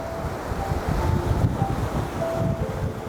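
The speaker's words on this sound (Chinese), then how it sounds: "大风渐起，山雨欲来" Strong wind gusts by a fast, turbulent river ahead of a coming rainstorm, a steady loud rushing roar with buffeting against the microphone and no voices.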